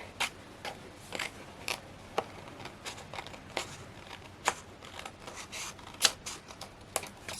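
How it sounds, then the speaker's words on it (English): Sharp scissors snipping through vellum in a papercraft project, a series of crisp, irregular close-up cuts and small crackles over a faint background hiss. "I can come in with some"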